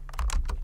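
Computer keyboard typing, with a quick run of several crisp, close key clicks in a short burst and no talking over it.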